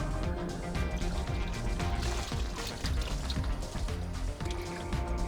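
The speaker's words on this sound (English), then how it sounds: "Next, rinse out the recovery bag." Water runs and splashes steadily while rinsing out the recovery bag of a Windsor Chariot iScrub 24-inch stand-on floor scrubber, a continuous, fairly close gushing and trickling with no talk over it.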